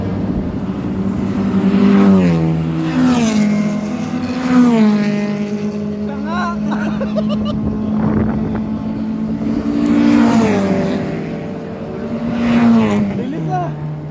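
Modded cars race past at Clark Speedway, with a loud engine drone whose pitch sweeps up and down over the whole stretch and rises in surges as the cars pass. People talk underneath.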